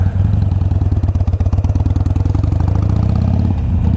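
A Harley-Davidson Iron 883 motorcycle engine runs steadily and loud throughout, a dense low thumping pulse with a slight rise in pitch midway, heard close up with no talking.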